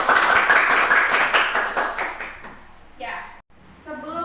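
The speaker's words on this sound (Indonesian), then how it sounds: "Tepuk untuk Sri" Students in a classroom clap together in rhythmic, fairly close bursts for about two and a half seconds, then the clapping fades and a voice starts speaking.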